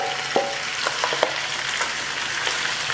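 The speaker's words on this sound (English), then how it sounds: "I'm gonna go ahead and add the beef and the pork sausage." Ground beef and pork sausage hitting a hot pan over browned pancetta for a ragù, giving a steady close sizzle with a few scrapes and stirring clicks and no talking.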